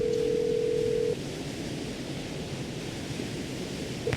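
A single steady telephone tone rings out for about a second, then stops, leaving quiet line hiss and a short blip near the end.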